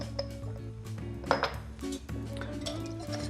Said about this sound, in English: You simply want to whisk the pumpkin puree and incorporate it with the sugar and the almond milk